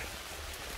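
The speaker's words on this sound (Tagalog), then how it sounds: "Lakas pa naman ang ulan." Heavy rain pours steadily on a trip delivering Christmas gifts to a remote sitio, a dense continuous hiss of drops throughout, fairly close and even, with no voices.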